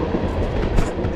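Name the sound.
train passing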